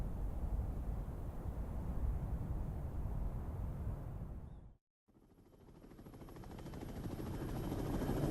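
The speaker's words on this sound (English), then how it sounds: "Chopper's here." Helicopter in a video game trailer, a dense rotor roar that cuts out abruptly mid-clip and then swells back in, growing louder as it closes in; no voices.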